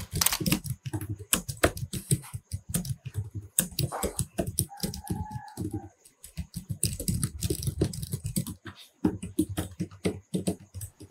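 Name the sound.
typing on Axioo gaming laptop keyboard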